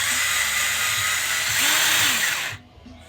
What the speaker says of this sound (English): it's just a drill.